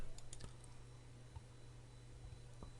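Typing on a computer keyboard, a few quick faint key clicks near the start and a couple of isolated taps later over a steady low hum.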